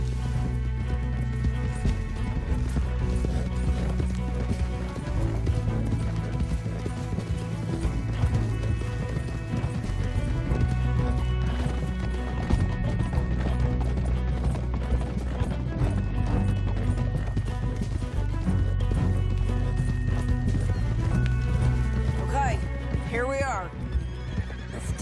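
Horses in the Western video game Red Dead Redemption 2 galloping with rapid clip-clop hoofbeats and occasional whinnies, sounding close and continuous over a steady music score.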